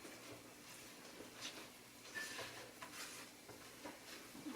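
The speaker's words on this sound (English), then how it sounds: "Let me get back to stirring it up." Spoon stirring brownie batter in a bowl at home, soft scraping and clinking strokes in an irregular rhythm, faint and close, with no voices.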